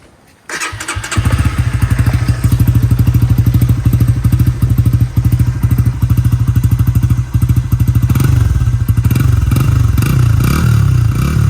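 A Honda Winner X motorcycle engine, noted for changed throttle response, starts with a thump and settles into a loud, close, rapid idle before being revved up near the end, with no voices over it.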